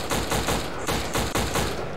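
Rapid repeated gunfire from the Xbox game Black fills the two seconds, a dense, loud, evenly spaced string of shots with no talk over it.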